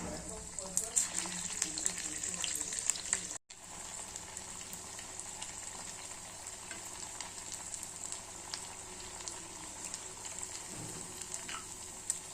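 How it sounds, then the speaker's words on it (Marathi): A crispy square-shaped homemade snack fries in hot oil, giving a steady close sizzle and bubbling throughout. A voice speaks over the frying. "या पद्धतीने छान अशी मी डिश तळून घेत आहे।"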